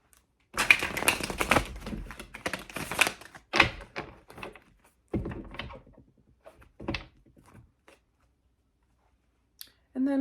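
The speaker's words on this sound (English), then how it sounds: "So shuffle these really quickly." Tarot cards are quickly shuffled close by in crisp riffling bursts with papery slaps and pauses between them, loud at first and then thinning out.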